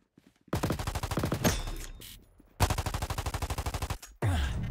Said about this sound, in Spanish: acá hay disparos